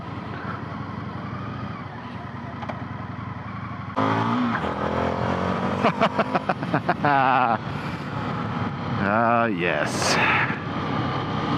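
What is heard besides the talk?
Indian FTR 1200 Rally motorcycle engine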